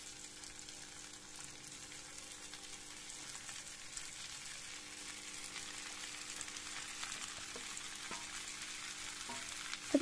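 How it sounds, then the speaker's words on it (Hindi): Pumpkin and potato pieces fry on a high flame, a soft, continuous sizzle with light stirring that builds slightly toward the end, faint and steady with no talking. "इसे हम हाई फ्लेम पे 5 मिनट तक भूनेंगे"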